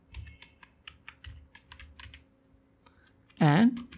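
Close, crisp key clicks come in quick uneven bursts as someone types on a computer keyboard, then a brief loud tonal sound cuts in at the end.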